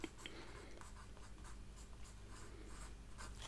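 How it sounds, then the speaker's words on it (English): A pencil scratching lettering onto a paper map, soft continuous graphite strokes close up in a very quiet room, faint and steady with small rhythmic scrapes and no talking. "I'll write a little Mexico in the middle here"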